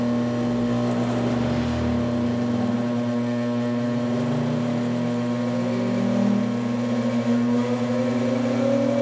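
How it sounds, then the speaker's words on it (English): A ReGenX generator system starts up and runs up to speed, giving a steady, loud mechanical hum with strong tonal drones and a pitch that rises slightly as it gains speed throughout. "I'm going to start up the system and bring it up to speed"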